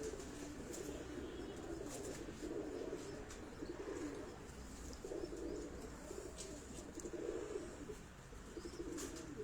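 A pair of pigeons on a rooftop coo in soft repeated low phrases, close and fairly quiet, with faint chirps in the background.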